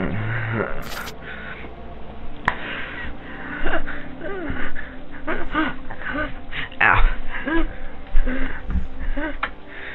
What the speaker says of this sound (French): sa respiration est très erratique